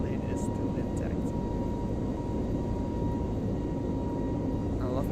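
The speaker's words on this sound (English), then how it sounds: "I love how the reverser sounds here" Thrust reverser roar of a ToLiss A321neo in X-Plane 11, a loud steady broadband rumble that holds evenly throughout with faint higher whines above it.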